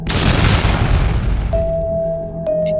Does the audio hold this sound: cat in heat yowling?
no